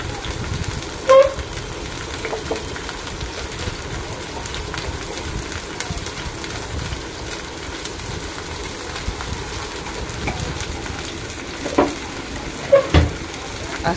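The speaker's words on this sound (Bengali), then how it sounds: "আগে তেল দিয়ে নিচ্ছে, পেঁয়াজ রসুন, পেঁয়াজ কাঁচামরিচ দিয়ে ভেজে নিচ্ছে।" Onion, garlic and green chilli frying in oil, a soft continuous sizzle with occasional clinks and scrapes of stirring, faint and without talk.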